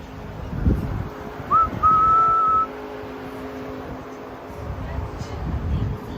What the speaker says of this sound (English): That's the sound of the choo-choo train.